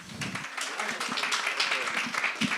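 An audience at a formal report launch applauds the German ambassador with dense, steady clapping that fills the hall at moderate level, with some voices mixed in.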